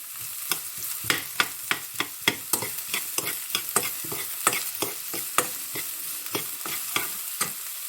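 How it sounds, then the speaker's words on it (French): Onions sizzle steadily in a hot pan, broken by a regular run of scraping stirs that continue alone and close throughout, with no voices. "on va d'abord faire cuire les oignons. On va un peu les faire caraméliser."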